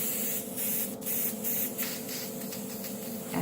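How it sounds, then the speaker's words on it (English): An airbrush gun sprays water onto kitchen roll, making a steady close hiss that pulses in short bursts as the trigger is worked. "I just pop in a bit of water and I just spray it on my kitchen roll"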